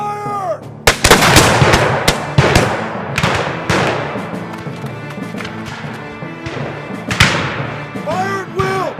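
Volleys of gunfire in a Confederate western battle scene, several loud sharp shots and booms in quick succession with shouting voices between and under them.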